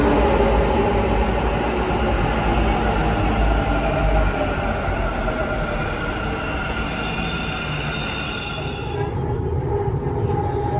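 Metro train rumbling through an underground station, a loud sustained roar of wheels and carriages that eases slightly near the end, with no voices.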